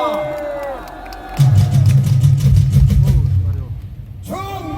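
A large outdoor crowd at a political rally claps and cheers loudly for about three seconds after an announcer's call, then the noise fades as the next speaker steps up.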